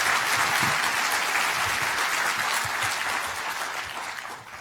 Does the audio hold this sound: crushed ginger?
no